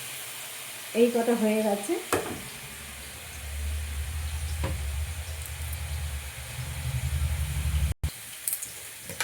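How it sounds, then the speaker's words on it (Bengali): Bakful (agati flower) fritters frying in hot oil, a steady low sizzle and bubbling that runs through most of the moment after a brief stir, with a short spoken remark near the start. "এখানে দেখো বড়া ভাজা বসিয়েছি, বকফুলের বড়া"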